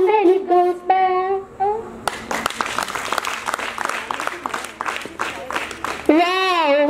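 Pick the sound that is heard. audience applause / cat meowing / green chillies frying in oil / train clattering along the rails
audience applause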